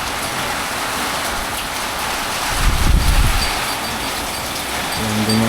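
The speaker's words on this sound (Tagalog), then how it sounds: "Oh, bagyo na!" Typhoon rain pours steadily at a house, a dense hiss of heavy drops. A deeper gust of wind swells and rumbles midway, then eases back under the continuous downpour.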